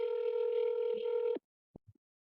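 A telephone dialing tone plays steadily and up close for over a second, then stops abruptly, followed by a few short faint clicks in silence.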